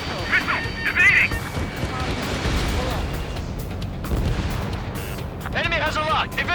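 Missiles firing and exploding in the jet combat game Ace Combat 7, with loud rumbling blasts and whooshes and a chirping lock-on warning tone, while a voice calls out over the action.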